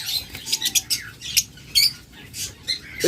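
Pet lovebirds, cockatiels and budgerigars squawk and chirp close by in a quick, uneven string of sharp calls, loud and mostly on their own.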